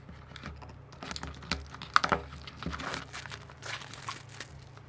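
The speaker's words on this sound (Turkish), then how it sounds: "O yüzden hemen hızlıca kutumuzu açıyorum." Cardboard and plastic packaging of a Torima K55 wireless gaming Bluetooth headphone box being opened, with crinkling, tapping and scraping handling sounds, close and moderately quiet, with no speech.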